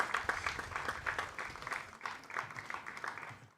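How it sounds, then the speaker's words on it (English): Faint applause from a small crowd at a high school varsity baseball game, scattered clapping with rhythmic bursts that tapers off toward the end. "Let's give them all a big round of applause"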